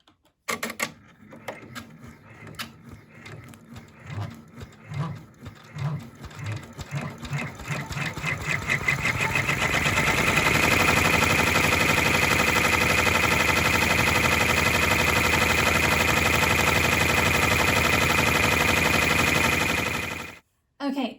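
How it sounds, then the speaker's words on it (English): An embroidery machine runs a tack-down stitch on waterproof canvas, starting with uneven clicks and bursts before settling into a loud, fast, continuous mechanical rattle that runs steadily until it stops abruptly near the end. "I'm just going to put my waterproof canvas there, and then now I'm going to run the tack down stitch"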